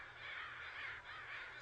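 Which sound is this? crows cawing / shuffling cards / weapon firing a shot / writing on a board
crows cawing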